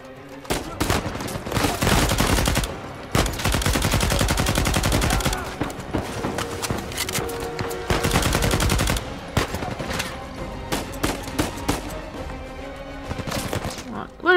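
Gunfire in Uncharted 4 on hard mode, with long dense bursts of rapid automatic shots alternating with shorter volleys and single cracks, loud and close, with a player's voice talking at times.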